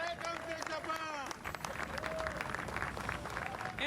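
Crowd welcoming the all-new Boeing 787 Dreamliner on its first arrival in Japan: clapping and excited shouting voices blend into a steady cheering din, heard from a short distance.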